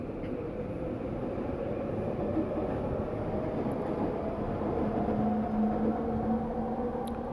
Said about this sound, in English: Sorry, trains again.